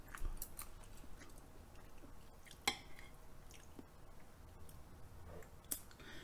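Someone eating raw salmon and raw beef yukhoe up close, with soft wet chewing, squishy mouth sounds and a few sharp clicks, quiet and with no talking.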